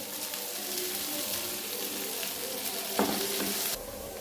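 Curry leaves frying in hot oil in a pan, giving a steady, close sizzle with stirring scrapes throughout and a brief louder crackle near the end.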